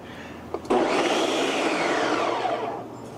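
A kitchen blender grinds six cloves of garlic roasted in a small toaster oven, starting abruptly with a loud, steady whirring roar that holds for a few seconds before easing off, heard alone without talk.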